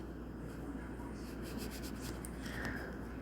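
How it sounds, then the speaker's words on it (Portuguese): A pen scratches across paper while drawing an electronic resistor symbol with an arrow, a series of short quick strokes, faint and close. "Vou desenhar de novo aqui para ficar mais claro"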